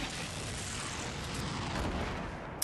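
A bazooka blast blows up a building in Fortnite, producing a loud, sustained booming rumble that fills the short moment without a break.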